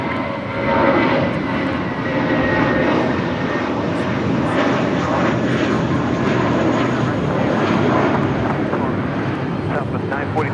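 A commercial airliner takes off from runway 25 left at Los Angeles International Airport, a steady, loud broadband engine roar that swells at the start and holds throughout, with a faint voice underneath.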